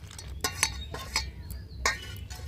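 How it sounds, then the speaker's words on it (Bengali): Hands mix potato, bread and ajwain for pakora batter in a bowl, giving a few sharp, irregular clicks and clinks close by with quiet gaps between them. "তো এবার হাত দিয়ে প্রথমে সব কিছু একটু মিশিয়ে নেব।"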